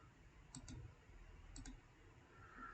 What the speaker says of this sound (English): I simply click on this.